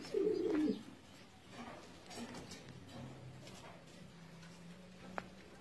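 Sirazi pigeons in a loft give a loud burst of cooing up close at the start, then softer coos, faint ticking and scattered rustles follow against a quiet background.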